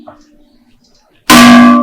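A ritual gong is struck once after a stretch of quiet chanting voices, a loud sudden metallic clang with a long ringing sustain that stays strong to the end.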